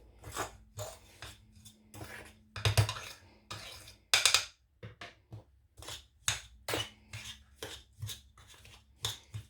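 Stuffing for kalb louze gets mixed by hand in a bowl: irregular scraping, rubbing and clinking strokes, close and moderately loud, coming in uneven bursts with short pauses and no talking over them.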